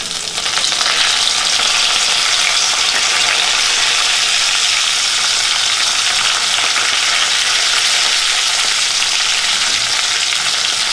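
Steady, loud sizzling of green chillies and curry leaves frying in hot oil, a continuous crackling hiss with no pauses and no talking.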